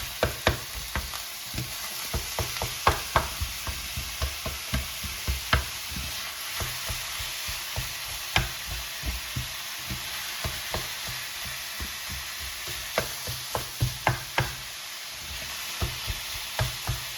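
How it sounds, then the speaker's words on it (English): Ground turkey and onion fry in hot oil in a pan, giving a steady bright sizzle broken by frequent sharp crackles and pops, close and without any talking. "So now you can hear the oil sizzling."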